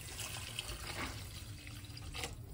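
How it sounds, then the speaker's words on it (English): Water pours steadily into a pot of cooked, tender peppers on a home stove, a faint continuous splashing rush with no talking. "So now we're about to add about 8 cups of water."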